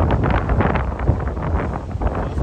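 Strong wind roars and buffets the microphone continuously, a loud, low rumbling gust noise with no pause throughout.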